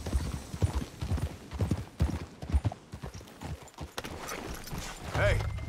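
Horse hooves clip-clop in Red Dead Redemption 2, a steady rhythmic trot close by, with a voice talking over it and a brief horse snort near the end.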